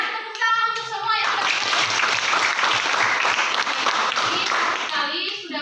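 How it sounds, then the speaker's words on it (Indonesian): Students clapping together in a classroom, a brisk burst of hands that swells after a teacher's brief voice and a child's, then fades as talk returns near the end. "Tepuk tangan untuk semua yang"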